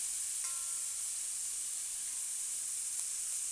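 Garlic dropped into a pan of bacon and onions sets off a steady, close sizzle and hiss that keeps going evenly with no talking.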